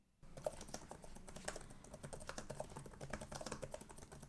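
Rapid, steady keystrokes on the Asus ROG Flow Z13's detachable RGB-backlit keyboard cover, with 1.7 mm key travel, resting on a desk. The clicks are close and crisp, running continuously without pause.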